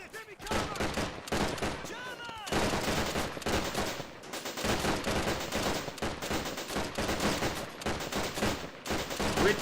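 Gunfire volleys in a German Revolution 1919 strategy game, with Freikorps and Spartacists exchanging rapid, dense rifle and machine-gun fire in close, continuous bursts, with brief gaps and shouted voices mixed in.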